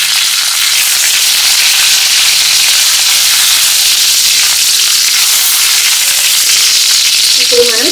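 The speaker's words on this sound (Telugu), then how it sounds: "ఆవాలు చిటపటలాడిన తర్వాత దీనిలో మనం 4 కరివేపాకు రెమ్మలు వేసుకోవాలి." Curry leaves and garlic sizzle steadily in hot oil during tempering for an Andhra-style beetroot chutney, a loud continuous frying hiss with sharper spatters and crackles near the end, no voices.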